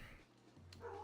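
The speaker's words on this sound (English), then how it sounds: "Sorry, my dog just freaked out." A pet dog at a window at night, startled by deer, gives a couple of sharp barks, then a high whimper and yelp, close and fairly loud against a quiet room.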